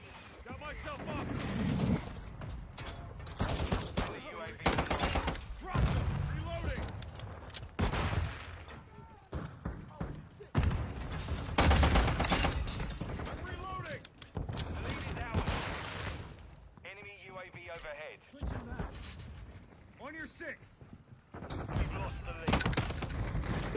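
Dense video game gunfire rattles out in loud, rapid volleys and heavy bursts, broken by brief pauses, with voices talking over parts of the shooting.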